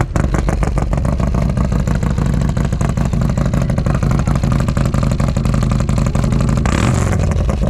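A Harley-Davidson motorcycle with dual exhaust revs loudly and close by, giving a dense, steady, throbbing roar with a slight rise near the end and no talking.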